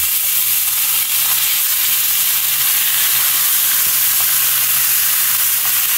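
Pork for Bisaya-style humba fries in a hot pan, giving a loud, steady sizzle and crackle that runs unbroken throughout with no voices.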